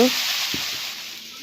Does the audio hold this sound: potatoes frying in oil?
yes